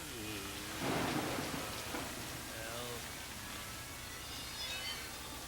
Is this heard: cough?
no